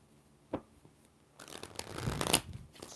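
Tarot cards are shuffled by hand in a few riffling bursts: one sharp snap early, then a longer crisp flutter of shuffling building and ending in a final slap, fairly close.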